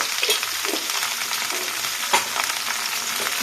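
Pointed gourd (potol) fries in a pan with a steady, close sizzle and crackle, light stirring scrapes cutting through now and then.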